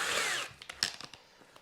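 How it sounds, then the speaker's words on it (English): A power drill spins a spool to load line onto a fishing reel, giving a loud whirring burst that cuts off, followed by a few sharp clicks and knocks as it settles. "Just load it into my drill."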